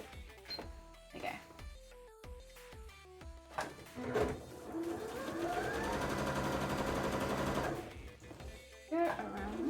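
A sewing machine stitches stretch fabric for a Pokemon cosplay, its rapid mechanical whir building into a steady run of several seconds after short stop-start bursts, with a person talking over it.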